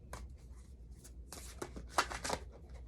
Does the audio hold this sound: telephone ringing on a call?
no